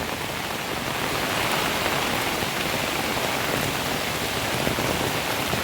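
Rain falls steadily on farmland in the monsoon, with runoff water flowing across the ground, a dense even hiss that is loud and constant throughout.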